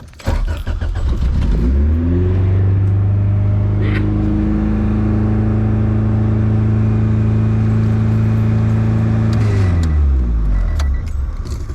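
Car engine with its idle air control valve reinstalled revs up, holds a steady high drone for several seconds, then falls back to idle, loud and close with a faint rattle near the start.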